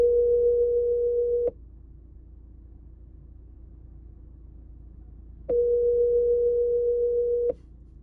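Phone ringback tone on an outgoing call, two steady buzzing tones of about one and a half to two seconds each, separated by a long silent gap over faint background rumble.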